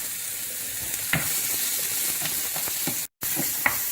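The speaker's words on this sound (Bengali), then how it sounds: "যখন ক্যাপসিকামগুলো দিয়ে আমরা ভাজবো তখন আমরা খুব সামান্য একটু নুন দেব ভাজার সময়তে" Capsicum frying in a pan for paneer khurchan, a steady close sizzle running throughout with a few soft stirring clicks and a brief dropout near the end, no voices.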